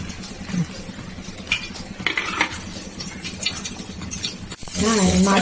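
Spiced pabda fish fry in a pan with a steady sizzle and clinking of a utensil against the pan, close by, with a brief voice near the end.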